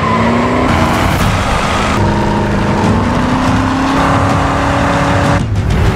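Cars roar loudly through a chase, engines revving and shifting pitch with tire noise and abrupt cuts, dense and continuous with no talk.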